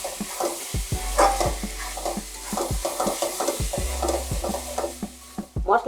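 Spice masala with dried chilli powder is stir-fried in a pan, a spatula scraping and knocking in repeated strokes over a steady sizzle, close and clear, with low thuds and a dog-like bark tagged in the background.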